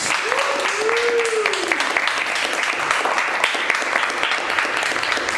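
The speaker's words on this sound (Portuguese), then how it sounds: "Palmas!" A crowd applauds loudly and steadily at a ballroom event, the clapping dense and unbroken throughout, with a voice briefly calling out over it near the start.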